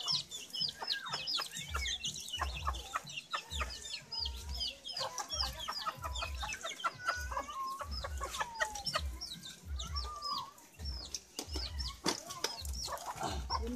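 Chickens cluck continuously in short repeated bursts while being fed outdoors on a rainy day before a typhoon, with a steady low rumble of rain or wind beneath and no talking.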